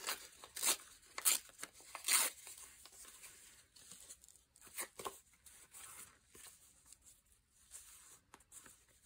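Paper being trimmed for a handmade journal page, giving several sharp cutting and crinkling bursts in the first half, then quieter intermittent handling sounds close by with no talking.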